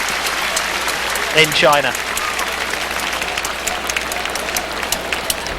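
A stadium crowd at a women's football World Cup final in China applauds the Norway team at the podium, steady clapping and cheering heard from a distance while a commentator speaks over it.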